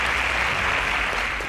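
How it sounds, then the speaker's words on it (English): Applause from the audience at a competition show's results announcement, a continuous even wash of clapping across the whole short stretch, with no voice over it. "A round of applause for him."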